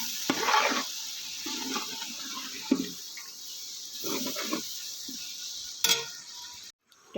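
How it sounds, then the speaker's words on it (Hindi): Tomatoes frying and being stirred in a large pot for matar pulao, a steady sizzle with repeated scraping and stirring noises nearby and no talking. "इनको अच्छे से भून लेंगे टमाटर गलने तक"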